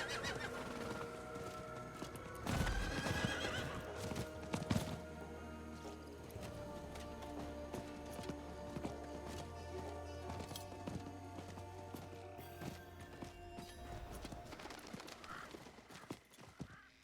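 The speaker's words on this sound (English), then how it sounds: "I love how easy it is to get back on your" Horse hooves and neighing in the Diablo IV video game, with a loud whinny early on followed by steady clip-clopping hoofbeats as the horse runs, set against a continuous game soundscape.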